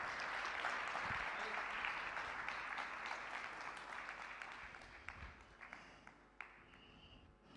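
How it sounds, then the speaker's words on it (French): Audience applause for a woman minister at an ISESCO ceremony, a steady wash of clapping that fades gradually toward the end with a few scattered last claps. "applaudissements s'il vous plaît"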